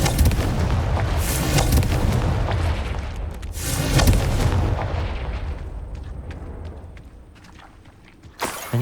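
Loud explosive booms from a fire spell in Hogwarts Legacy, a heavy roaring burst followed by a second blast around midway, then a long rumbling decay into quieter debris and a sharp knock near the end.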